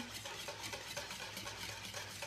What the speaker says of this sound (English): So pumpkin, and then 1 1/4 cup of evaporated milk. So mixing that up.